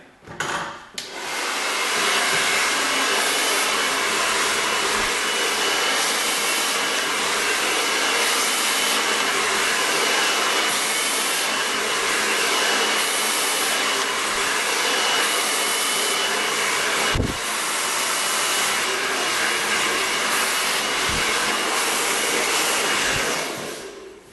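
A hair dryer blows steadily and loudly while hair is blow dried with a brush into an S-shaped wave, a continuous airy roar holding for over twenty seconds with brief clunks near the end.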